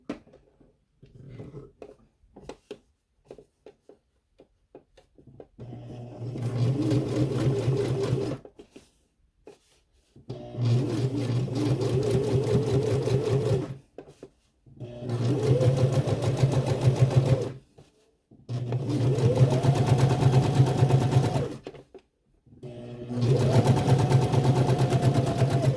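A sewing machine stitches the zipper waistband of a skort in steady runs of several seconds each, separated by short pauses and a quiet stretch before the first run.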